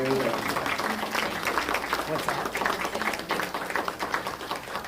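Audience applause at a senior center gathering, a steady wash of clapping that fills the whole stretch, with voices and chatter mixed in underneath.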